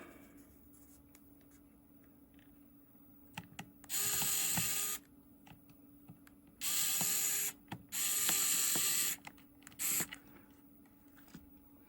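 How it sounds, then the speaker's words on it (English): A small screwdriver drives tiny screws into a scrap, mangled Nintendo 3DS/2DS console. Soft clicking ratchet turns come in four short, close bursts over a quiet background. "Might as well screw some of this down as well."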